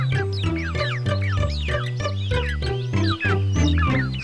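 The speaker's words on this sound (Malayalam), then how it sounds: "അയ്യോ, ശബ്ദം കോഴിക്കൂടിനടുത്ത് നിന്നാണല്ലോ." Cartoon chickens near a coop cluck in a busy, rhythmic run of repeated calls, loud and close with overlapping high chirps.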